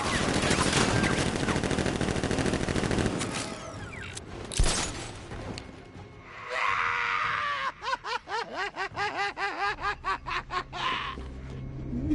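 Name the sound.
gunfire in Batman: Arkham Knight video game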